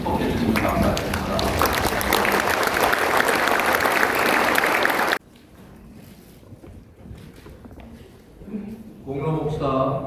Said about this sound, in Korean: 같이 일어나셔서 한번 박수로 축복해 주시면 감사하겠습니다.